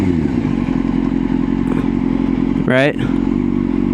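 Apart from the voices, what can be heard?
motorcycle braking with front and rear brakes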